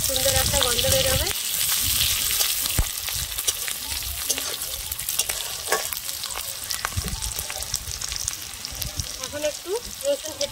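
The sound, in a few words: onion, chilli, bay leaf and whole spices frying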